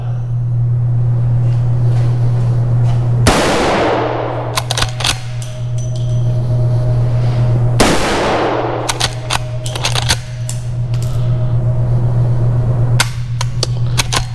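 Two loud, sharp shots from a Henry Big Boy X .357 rifle fired at a 10-yard range, about four seconds apart, each cutting through a steady low hum.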